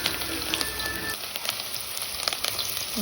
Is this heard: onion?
yes